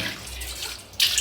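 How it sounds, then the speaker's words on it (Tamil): Water left over from washing spinach poured out in a kitchen, a close splashing pour that fades briefly and then surges loudly again. "கீரை அலசின தண்ணியை கீரை ஊற்றிட்டேன்"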